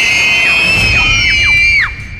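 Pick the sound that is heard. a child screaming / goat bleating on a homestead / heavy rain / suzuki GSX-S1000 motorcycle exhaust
a child screaming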